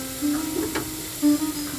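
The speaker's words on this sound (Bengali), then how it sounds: "এই সময় দিয়ে দেবো ফ্যাটানো দই" Whisked sour yogurt hits frying onion spice paste in a pan on low heat, giving a brief, soft, close-up sizzle with a faint stir.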